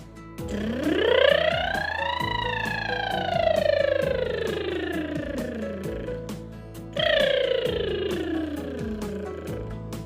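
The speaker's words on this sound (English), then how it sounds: "as you may notice when I did the voiced lip trill, I did a siren" A singer performs voiced lip trills, the buzzing, motor-like flutter sweeping up and then down in a siren-like glide, then starting a second rising and falling sweep.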